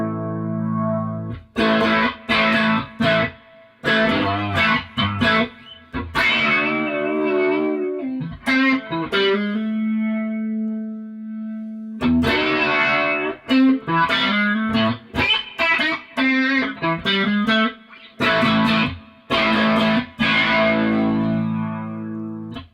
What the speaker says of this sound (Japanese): そのプリアンプゲインは上げていくと、ちょっとね、歪みますみたいなことを書いてるんですけど、とりあえずね、左回しいっぱいから右回しいっぱいまで鳴らしてみたいと思います。